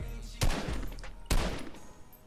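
Two sharp assault rifle bursts ring out in the Fortnite video game, each a loud crack with a ringing tail, spaced about a second apart.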